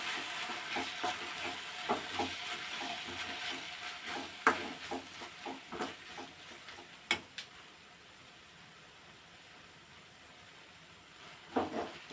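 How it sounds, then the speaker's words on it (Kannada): Egg masala gravy frying in a pan gives a soft, low sizzle with repeated light scrapes and taps of a spoon stirring, quieter toward the end. "ಇಷ್ಟು ಫ್ರೈ ಆದಮೇಲೆ ಇದಕ್ಕೆ ಎಗ್ ಮಸಾಲ ಸೇರಿಸ್ತಾ ಇದ್ದೀನಿ"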